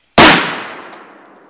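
An explosion blowing up a lacquered hardboard painting on a stretcher frame: a single sharp, loud blast bursts out of silence, then rings and decays over about a second.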